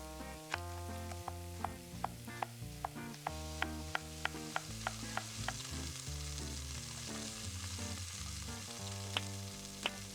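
Chopped onions frying in hot oil in a pan, sizzling steadily and fairly quietly with sharp crackles and pops, over a tonal hum and music in the background.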